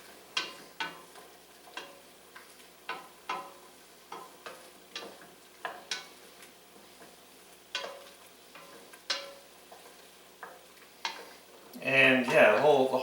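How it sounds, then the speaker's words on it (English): Soup ingredients stirred in a pot to coat them with Worcestershire sauce, giving a series of light scraping and clicking spoon strokes over a faint sizzle, close, ending in a louder burst of noise, with no talking. "So I'm going to get this stirred around"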